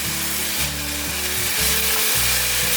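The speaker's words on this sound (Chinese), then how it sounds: "把肉桂粉拌匀，再继续慢慢的拌炒。" Apple and carrot with cinnamon powder are stir-fried in a pan, giving a steady, close sizzle with a low rhythmic scraping of the spatula underneath and no voices.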